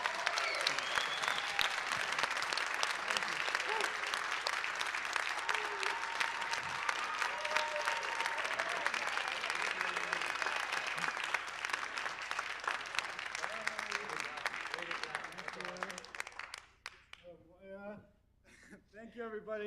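Sustained applause from an audience at the Spark Bowl 2022 awards as a first-place team is announced, steady and dense clapping that fades out near the end, followed by quieter scattered sounds.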